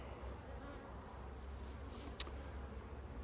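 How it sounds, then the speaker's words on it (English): Honeybees drone steadily inside an open beehive, hive number four, a faint, even buzz that holds for a few seconds with one short louder flicker partway through. "A lot of bees in there."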